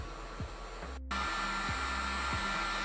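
Steady blowing whoosh of a hair-dryer-style heat blower warming paint chemical product in an enclosed workspace, running continuously throughout, close and moderately loud, with a few faint low knocks underneath.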